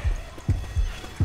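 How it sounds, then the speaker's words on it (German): In Left 4 Dead, four deep, thudding heartbeat pulses land in a steady rhythm, low and fairly loud over a faint background hiss. "Ich höre das Herz schlagen"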